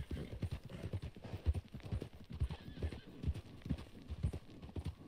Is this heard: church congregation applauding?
no